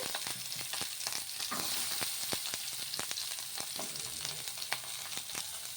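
Green chilies and fresh coconut pieces fry in hot oil with a continuous close sizzle. Frequent sharp pops and utensil clicks cut through it at irregular intervals.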